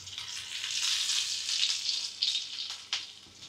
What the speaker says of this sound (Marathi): आता ह्याच्यात आता मी टाकते जिरं आणि लसणाची फोडणी देऊया